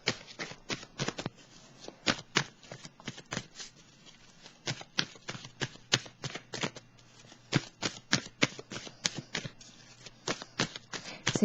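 Tarot cards shuffled for a reading, crisp riffling bursts and flicks repeating in quick irregular clusters, close and fairly quiet, with no voices.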